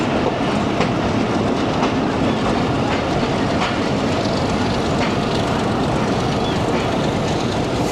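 A 228DN shuttle train coach on a rare morning branch line running into Sanawa railway station in Pakistan, heard from on board as a loud, steady rumble with rhythmic clickety-clack of wheels over rail joints.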